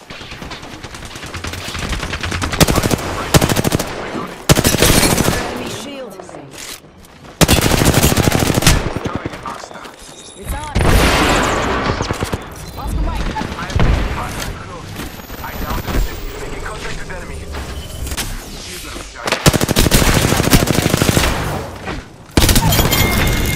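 Rapid automatic gunfire from an Apex Legends match, loud bursts of shots and fusillades crackling repeatedly across the whole stretch, with short lulls between volleys and occasional booming impacts under in-game voice callouts.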